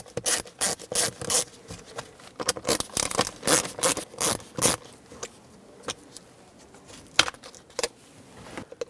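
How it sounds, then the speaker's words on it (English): A Phillips screwdriver works loose a broken center console latch on a 2007-2014 Chevrolet Silverado 2500HD, giving rapid close scraping, rubbing and clicking bursts with plastic rattles, busy at first and thinning toward the end. "With a Phillips head screwdriver, remove the old,"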